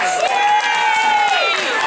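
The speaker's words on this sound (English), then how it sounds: "Please give a huge round of applause." Trivia winners on a Disney Magic cruise ship get a burst of audience applause and cheering, a dense crowd wash under a sustained tonal voice or music line.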